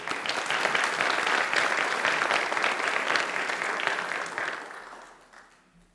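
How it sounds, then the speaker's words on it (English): A graduation audience at a Macquarie University ceremony gives a dense, even wash of applause that holds steady for several seconds, then tapers off and fades away. "Congratulations, another great round of applause."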